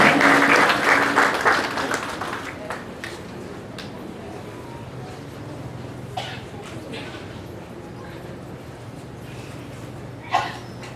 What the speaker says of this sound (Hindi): जोरदार तालियों के साथ हार्दिक शुभकामनाएं।